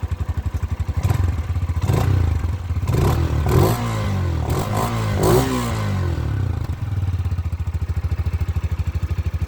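An Arora MT 125 motorcycle engine is revved several times up close, the pitch rising and falling in bursts over a steady idle rumble.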